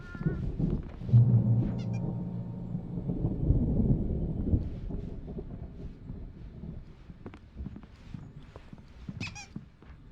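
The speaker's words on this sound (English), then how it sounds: "There's a storm coming. Oh, what a storm." A thunderstorm in the video game Alan Wake Remastered: deep thunder rumbles and rolls under a dense, noisy storm ambience, with a loud swell early on that gradually settles into steady background weather.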